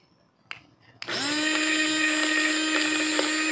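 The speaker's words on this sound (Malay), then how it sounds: "Kita cuba pakai blender ni." A kitchen blender whirs into a loud, steady motor whine as it juices pomegranate, starting abruptly after a couple of soft knocks and holding constant to the end.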